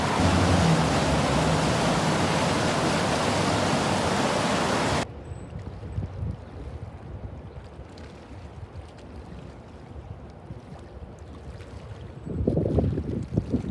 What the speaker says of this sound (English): Look at the water just pouring over into this spillway right here.